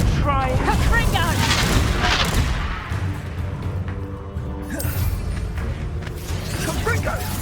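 Confringo fire spell blasts in Hogwarts Legacy, repeated booming explosions and crackling impacts in a chaotic duel with an excited voice shouting over the game effects.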